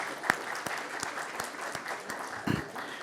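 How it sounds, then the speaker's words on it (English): Applause from an awards-ceremony audience greeting Raman Roy, the founder of Quatrro and head of the IIN Venture Fund, steady broadband clapping, moderately loud and sustained throughout. "So big round of applause for Raman Roy"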